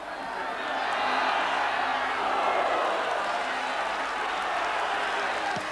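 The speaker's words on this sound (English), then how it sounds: "the ground is buzzing" A football crowd of about 7,500 at the 1983-84 Wimbledon v Nottingham Forest League Cup match, a broad steady roar and buzz of the stands with faint clapping and a commentator talking over it.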